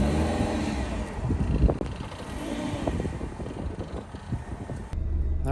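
Ford Escort ZX2 car driving on its first drive after purchase, a steady engine and road rumble with wind buffeting and occasional thumps and rattles, close and continuous throughout.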